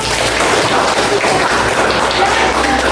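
Children clap their hands together in a classroom, a dense, steady burst of applause that fills the room without a break.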